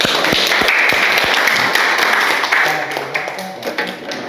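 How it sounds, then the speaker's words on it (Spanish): A classroom group applauds, dense clapping close and loud, fading over the last couple of seconds as a voice begins speaking. "Vamos a dar un aplauso."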